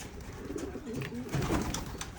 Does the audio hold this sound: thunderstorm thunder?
no